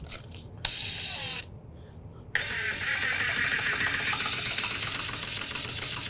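A DeWalt 20V MAX XR cordless impact driver running, short bursts and then a sustained loud rattling hammering as it torques, close by with a few brief pauses.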